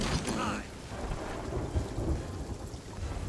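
Thunder rumbles through a storm in Sea of Thieves, a loud crack at the start giving way to a steady roll of heavy rain and low rumbling with no talk.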